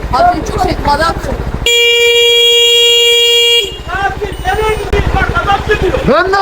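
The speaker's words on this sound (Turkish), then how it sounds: "Korna çal, bir şey yap." A car horn blares in one long sustained honk in a busy street scene, with excited voices talking over it before and after.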